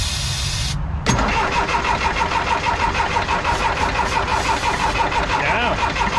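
An old LULL telehandler's diesel engine, left sitting for about twenty years, cranks and catches, then runs with a loud, steady, rhythmic chugging idle close by for several seconds.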